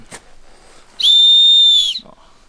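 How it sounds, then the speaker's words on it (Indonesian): A single sharp, high whistle blast on Mount Buthak held steady for about a second, loud and close, with faint background sounds before and after. "Gue udah coba kasih sinyal pakai peluit tapi nggak ada jawaban."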